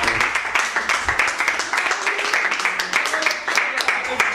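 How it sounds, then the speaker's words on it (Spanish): Steady applause from a crowd, dense overlapping claps continuing throughout, with voices mixed in underneath. "un aplauso para Mauro y para David."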